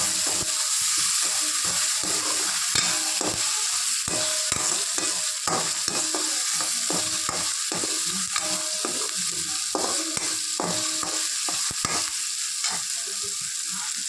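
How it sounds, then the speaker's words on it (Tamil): Ginger-garlic paste frying in a pan for chicken fry, a loud, constant sizzle with rapid, repeated spatula scrapes and taps as it is mixed, close up. "இதை நல்லா மிக்ஸ் பண்ணணும்"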